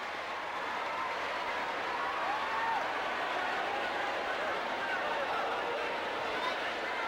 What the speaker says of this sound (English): Crowd enjoying this one